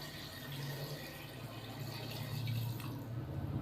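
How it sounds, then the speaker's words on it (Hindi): Water pours steadily into a cooking pot holding chicken for a dhaba-style chicken bharta, a continuous close, moderately loud splashing fill with no talk. "चिकन को शामिल करने के बाद मैं इसके अंदर पानी शामिल करूँगा तकरीबन 2 से 3 गिलास।"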